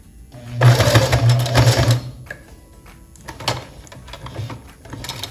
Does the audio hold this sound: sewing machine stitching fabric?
yes